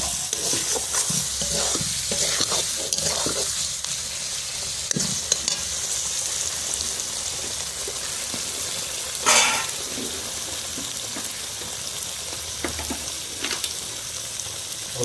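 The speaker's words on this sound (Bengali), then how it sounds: "আমি এবারে চিংড়ি মাছগুলো অ্যাড করে নেব, 2-4 বার করে নাড়িয়ে নেব।" Prawns go into frying masala in a home kitchen and are turned a few times, with a constant oily sizzle and occasional louder utensil scrapes and clatters.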